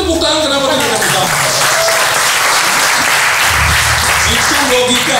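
A church congregation breaks into loud, close applause filling the room, with voices and cheering mixed in throughout.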